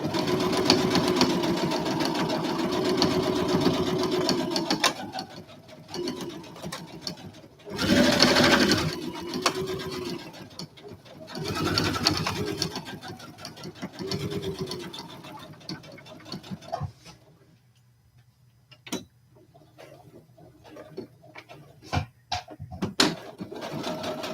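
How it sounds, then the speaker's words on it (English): A sewing machine runs a few security back stitches in steady mechanical bursts, close and fairly loud, with short pauses between runs and quieter handling noise near the end. "And then start with a few back stitches for security purposes."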